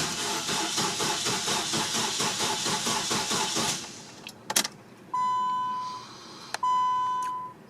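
A Nissan Sentra with a suspected fuel pump fault fails to start: a steady, loud cranking rhythm runs for about four seconds and stops, then come a click and two long electronic warning chimes.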